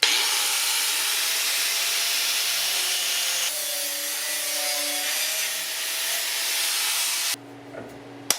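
A steady, loud cutting noise with a harsh hiss runs without break along a marked line, shifting slightly in tone partway through before stopping abruptly, during work on a 1976 Mazda RX-5 Cosmo restoration.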